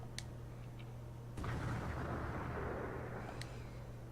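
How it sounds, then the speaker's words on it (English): A dull explosion in the visual novel game Code: Realize ~Bouquet of Rainbows~ lands as a sudden broad boom, then a heavy rumbling wash that lingers over a low steady hum until the end. "A dull explosion shakes me to the core"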